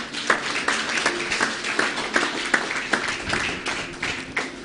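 A church congregation at a leadership installation ceremony in Bonaire applauds, steady sharp handclaps from many people filling the room, with no talking over them.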